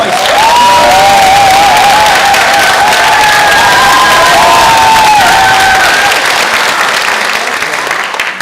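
Loud, sustained applause fills a packed hall at a national policy seminar in the National Assembly held by a federation of home-based long-term care providers, with cheering and crowd voices in the mix.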